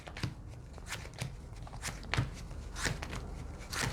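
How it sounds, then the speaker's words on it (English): A Yu-Gi-Oh! Blue-Eyes tournament deck is shuffled by hand, producing quick, repeated riffling card bursts in an irregular rhythm, close and fairly quiet with no speech. "Let's go ahead and hit it with that good old shuffle."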